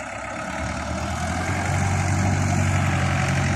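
A tractor engine idles with a low, steady rumble that grows slightly heavier partway through, running alone without any talk.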